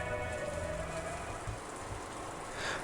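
Rain falls on a dark night in the visual novel Umineko, heard from inside a room. It is a faint, steady patter with a low, soft hum beneath it.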